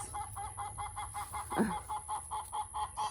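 Chickens cluck in a steady, repeating rhythm at moderate distance, with one louder squawk breaking in midway.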